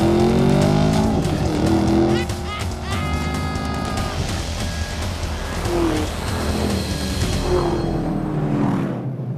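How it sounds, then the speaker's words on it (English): A car doing a launch-control start at 5,000 revs on a test track, with a loud sustained engine roar, wheel spin and tyre squeal, and rising engine notes as it pulls away. "Too much wheel spin."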